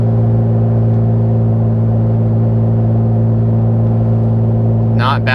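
A Toyota Tacoma with a Carven exhaust cruises at about 2,000 RPM near 65 mph, giving a loud, steady, even drone without revving that holds through the whole stretch, with a brief burst of voice at the end.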